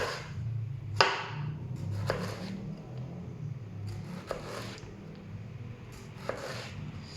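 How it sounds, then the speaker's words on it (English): A big knife slices celeriac into thin slices, leaving a few distinct crisp cutting strokes spaced about a second apart over a low hum, close and fairly quiet. "I'm going to take a nice big knife and I'm going to cut slices from the celeriac as thin as I can get it"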